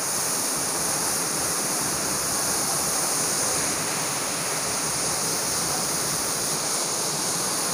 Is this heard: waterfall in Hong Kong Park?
yes